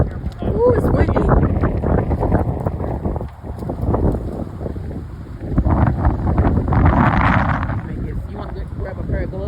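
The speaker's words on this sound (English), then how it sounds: "Ooh, it's windy." Strong wind buffets the microphone outdoors beside beehives, a loud continuous roar with gusts rising and falling, with brief voices mixed in.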